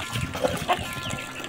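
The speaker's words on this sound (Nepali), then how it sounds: "कुखुरा नि कालो शिर भएको छ हेर्नुहोस्" Black-headed Kadaknath chickens in a village yard cluck in a couple of short, close calls over a soft background of trickling water and faint ambient noise.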